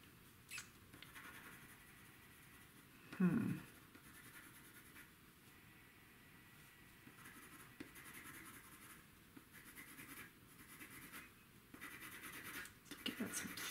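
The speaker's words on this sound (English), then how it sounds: "Sounds like I'm pressing really hard, but I'm not. Paper's just rough" A colored pencil scratches continuously across rough Createspace paper, close and dry with uneven gritty strokes, plus one louder rustle early on.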